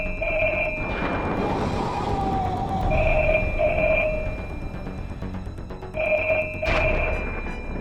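A telephone rings repeatedly in a horror show scene, short bright bursts of ringing in several separate groups over a dark, rumbling background, fairly loud and close, with no speech.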